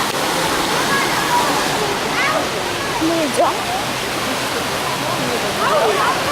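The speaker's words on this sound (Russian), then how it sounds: "сегодня мы приехали на водопад." A waterfall in Georgia roars as a steady, broadband rush of falling water close by, continuous throughout, with people talking briefly over it.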